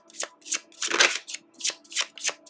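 Tarot cards are shuffled and pulled close up, making a series of soft riffling bursts, about seven quick flutters at a loose rhythm with no talking.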